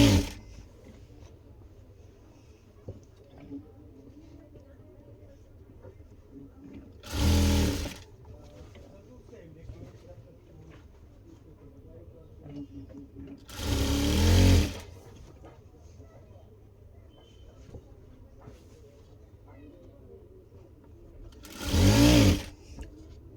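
A sewing machine stitches an armhole seam in three short, loud bursts of rapid whirring, separated by long quiet pauses with faint background rustle.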